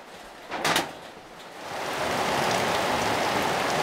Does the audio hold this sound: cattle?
no